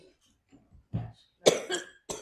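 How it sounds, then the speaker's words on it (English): Several harsh coughs from an adult at an indoor retreat talk, coming in separate loud bursts with short pauses between them, close and clear, with no speech over them. "I have to have a good cough."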